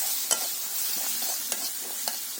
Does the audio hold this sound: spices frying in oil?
yes